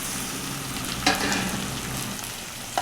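Onion and tomato frying together in a pan, a steady close sizzle with a couple of sharp clinks of a utensil against the pan.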